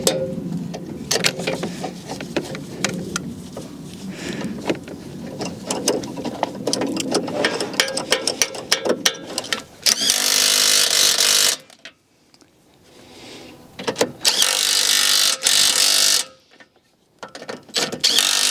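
Wrench turning the four nuts on a crash-damaged BMW's slam panel bolts, a run of rapid ratcheting clicks in bursts with short pauses between, close and fairly loud.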